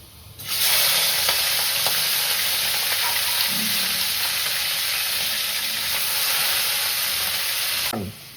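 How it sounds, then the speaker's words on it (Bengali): Prawns sizzle in hot oil in a pan, a steady, loud broadband frying hiss lasting several seconds with faint stirring clicks, then cutting off abruptly at the end. "একদমই হালকা করে ভাজতে হবে, তা না হলে শক্ত হয়ে যাবে কিন্তু। চিংড়ি মাছগুলো দিয়ে দিচ্ছি।"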